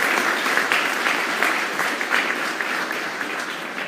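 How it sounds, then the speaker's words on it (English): Steady applause from an audience at a high-level conference panel on inclusive and sustainable economies, dense continuous clapping filling the room at even loudness throughout. "I'd like to have a round of applause for the rain that has fallen and also for our panelists"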